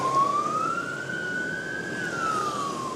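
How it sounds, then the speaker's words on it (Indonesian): An ambulance's wailing siren sweeps slowly up and down in pitch over steady afternoon rush-hour traffic rumble, loud and close as it passes, heard from a motorcycle. "Bentar, ambulan dulu belakang."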